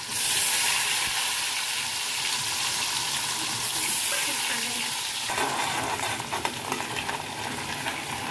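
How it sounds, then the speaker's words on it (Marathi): Urad dal frying in hot oil as a tempering for masala bhindi gives a steady, close sizzle with stirring scrapes throughout, without speech. "उडदाची डाळ टाकायची, मस्त गोल्डन ब्राउन होऊन द्यायचे।"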